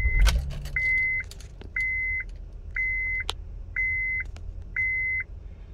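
A car is switched off and restarted, starting with a brief jingle of keys and ignition noise, then a row of five evenly spaced electronic dashboard chimes sounding in a steady rhythm over a low idle.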